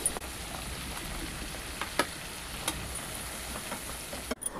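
Cashews and almonds sizzle steadily in hot butter, a close, even frying hiss broken by a few light clicks and taps from stirring.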